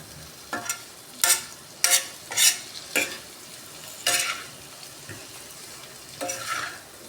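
Paneer sizzles in oil in a pan as a spoon stirs it, with about eight separate bursts of scraping and hissing over a steady low frying crackle, close by.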